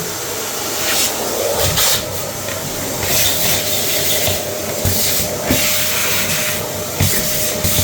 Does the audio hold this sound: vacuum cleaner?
yes